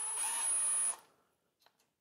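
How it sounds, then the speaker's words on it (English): Impact wrench running out connecting rod cap bolts on a VR6 engine block, one short loud whirring burst that stops abruptly, followed by a couple of faint clicks. "I'm gonna just go ahead and run them out with an impact"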